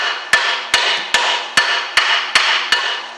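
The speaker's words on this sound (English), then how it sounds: "So I'm going to hit the top bolt. Hit the top of the caliper." A hammer strikes the top of a rear brake caliper on a Citroen C5, eight sharp metallic blows at a steady, evenly spaced rhythm, loud and close, with no talking.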